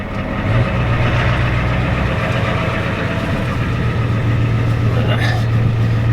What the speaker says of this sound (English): why do you just leave the truck idle all the time?